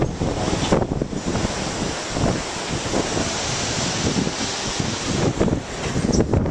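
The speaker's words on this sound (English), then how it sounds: "it's windy out here, it's raining out here" Storm wind and rain in New Jersey buffet the microphone with a continuous roaring rush and gusting bursts, loud and close, with no talking.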